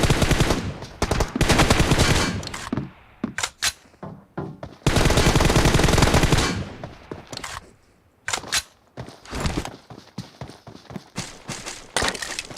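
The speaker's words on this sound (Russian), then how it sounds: "Вот опять стрельба." Rapid bursts of gunfire in a team deathmatch shooting video game, loud and sustained automatic fire alternating with short shots and pauses, alone without talk.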